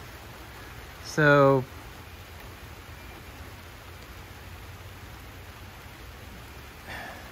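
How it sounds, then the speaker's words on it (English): Rain falls on a farm as a steady, even hiss of drops on surfaces that continues throughout, while someone speaks a single brief word near the start. "Having a little rainstorm."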